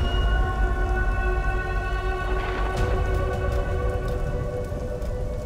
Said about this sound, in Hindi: बारिश इतनी तेज हो रही है